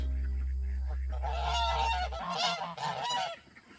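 Several geese honk in a burst of overlapping calls after a steady low hum fades out, loud and close.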